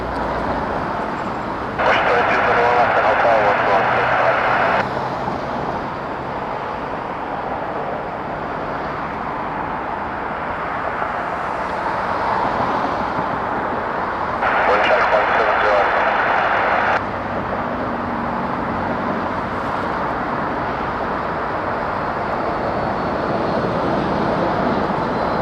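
A WestJet airliner, flight 2221 from Puerto Vallarta, passes at night at Toronto Pearson Airport, a steady broadband jet roar over continuous background noise, with louder bursts near the start and middle and a person talking at times.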